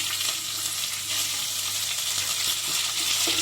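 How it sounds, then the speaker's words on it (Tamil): Shallots sautéing with curry leaves in hot oil for a potato masala, a loud, steady sizzle and crackle with a few faint stirring scrapes, no voices. "நல்லா வெங்காயம் நல்லா வதங்கட்டும்"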